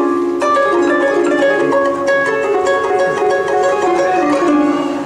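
Harp strings plucked with both fingertips and fingernails, a bright, ringing run of notes with crisp attacks that sustain and overlap, played solo and steadily loud throughout.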